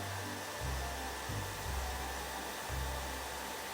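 A Kärcher professional dry vacuum cleaner running, a loud continuous motor whine with broadband airflow hiss and a few rhythmic low surges as the suction shifts, no voices.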